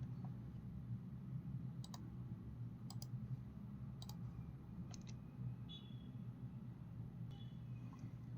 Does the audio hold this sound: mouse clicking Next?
yes